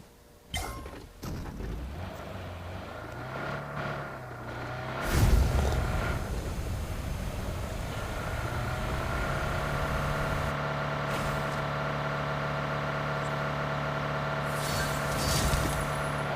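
A car in an online squad battle-royale video game drives along, its engine a steady, continuous drone that starts abruptly and runs without a break. A brief thump and a rising rush break in partway through.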